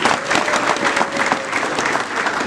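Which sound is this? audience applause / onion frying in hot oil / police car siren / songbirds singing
audience applause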